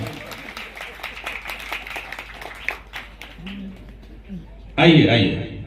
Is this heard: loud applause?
yes